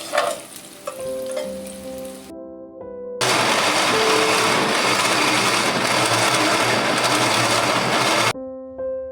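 A kitchen grinder blends yogurt and onion into a paste: a short whir, a silent gap, then a loud, steady motor roar for about five seconds that cuts off sharply, with faint humming tones between runs.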